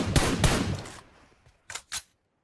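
Gunfire in the video game PUBG Mobile, a rapid burst of shots followed by a fading tail, then two separate sharp shots after a short pause, no voices.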